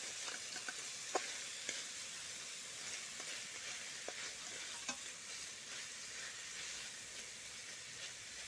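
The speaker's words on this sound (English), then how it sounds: "I was stirring the onions" Onions sizzle steadily as they are stirred and fried in a pan for a bacon, tomato and red wine pasta sauce, with a few sharp spoon taps and scrapes above the constant hiss, close by and without talk.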